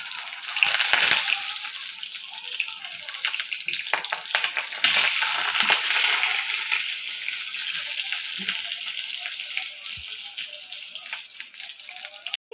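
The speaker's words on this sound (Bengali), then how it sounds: "এবার একটা একটা করে পটল ওর মধ্যে ছেড়ে দেবো" Pointed gourd pieces dropped one by one into hot oil, a loud, dense, continuous sizzle and crackle throughout, close up and with no talking.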